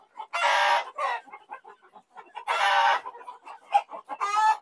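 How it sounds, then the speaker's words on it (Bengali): Fayoumi chickens on a poultry farm crow in loud, long bursts with quick clucks and short calls between them, close by, with no talk. "এই যে ফাউমি মুরগি, এই আমি যে বলি, ফাউমি অনেক সুন্দর হয়েছে এই ফাউমি গুলা"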